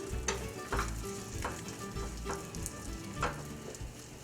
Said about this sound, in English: I'm just gonna brown them up a little bit in some butter